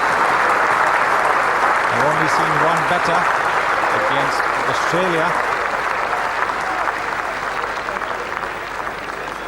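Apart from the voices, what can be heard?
cricket crowd and players applauding a Test century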